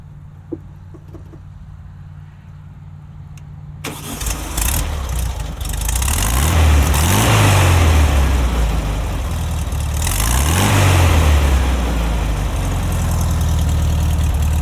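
A modified 1966 Volkswagen Beetle engine cranks and catches at about four seconds after a quiet start. It then runs steadily with a loud, low, throbbing idle and two brief revs.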